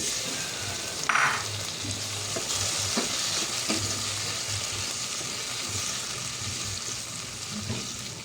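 Tomatoes sautéing with onion, garlic and ginger in a pan for ginisang monggo with pork ribs: a continuous sizzle with occasional spoon scrapes and a brief louder hiss early on, close and moderately loud.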